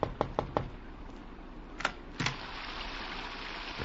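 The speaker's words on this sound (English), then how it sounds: "I thought it was his knock that I heard on my door." Several sharp knocks sound on a wooden door, first a quick run of three raps, then two more spaced out, followed by a quiet steady hiss like rain.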